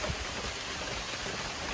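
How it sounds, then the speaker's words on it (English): Steady, heavy rain falls on a golf course in Myrtle Beach, a dense continuous hiss of drops heard close and unbroken, with no voices over it. "there's no thunderstorms, just a lot of rain"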